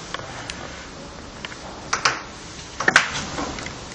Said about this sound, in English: Attach the cover back.